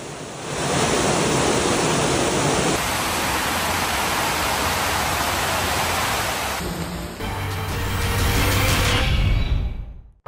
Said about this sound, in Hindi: सीढ़ियों के जरिए बाढ़ का पानी तेजी के साथ स्टेशन में घुस रहा है।